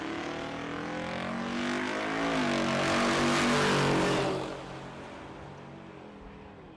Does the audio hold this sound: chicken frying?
no